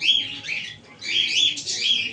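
Pigeons chirp and call in two short bursts close by, bright clustered bird sounds with a brief pause between, as the birds arrive to peck at sand grit.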